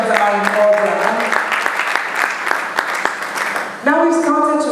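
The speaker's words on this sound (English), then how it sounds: "Please, another round of applause for Deborah and congratulations on our program." Audience applause for Deborah at a university book launch, a steady, dense clapping that fills the room, with a tonal background voice or music at the start and end.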